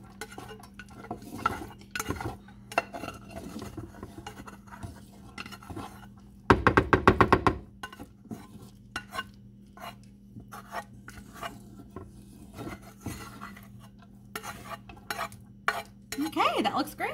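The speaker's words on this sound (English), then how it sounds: "We're just going to incorporate that rice into the veggies." A spoon works cooked rice into sautéed vegetables in a pan for stuffed peppers, giving soft scraping and stirring rasps with a short burst of metal clatter against the pan partway through.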